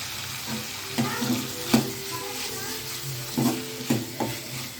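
Tomatoes sautéing in a pan for egg kurma, a steady soft sizzle broken by several sharp clinks and scrapes of a spoon stirring against the metal.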